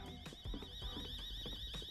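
An alarm rings inside a building in the Roblox game Emergency Emden, a steady electronic tone held throughout under game noise and thumps, fairly faint.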